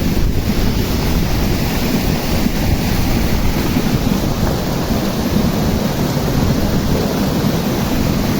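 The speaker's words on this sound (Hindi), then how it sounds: "बहुत ज़्यादा प्रेशर है पानी का बहुत ज़्यादा" Glacier water gushing at high pressure from a pipe beside a mountain road, a loud, continuous broadband roar that stays steady throughout with no voices.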